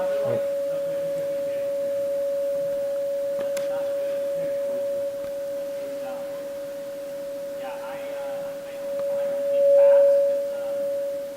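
A steady pure test tone hums unbroken at one pitch for the whole stretch, with faint background voices and rustle underneath.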